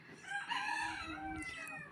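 Farm chickens clucking and a rooster crowing, several layered calls overlapping continuously at close range with steady loudness throughout.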